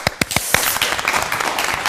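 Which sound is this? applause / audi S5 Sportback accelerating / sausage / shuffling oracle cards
applause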